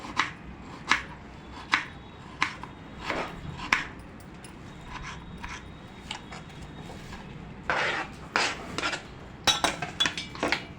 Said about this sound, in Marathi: त्यानंतर टोमॅटो पण बारीक चिरून घ्यायचा आहे